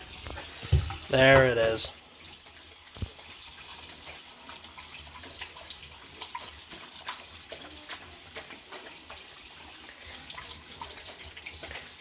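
A bathroom sink faucet runs with a soft, steady stream of water, fairly quiet and continuous throughout, with a short spoken remark near the start.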